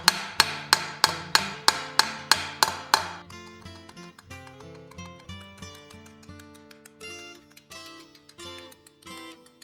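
A hammer strikes a steel helmet back plate lightly to define a ridge, with about nine steady, evenly spaced blows followed by softer, irregular taps that leave bright metallic ringing tones.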